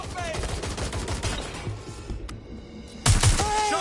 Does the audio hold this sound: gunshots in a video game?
yes